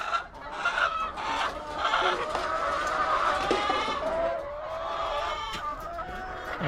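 A flock of backyard chickens clucks and squawks loudly and continuously in the morning before feeding, many overlapping calls close by with no talking.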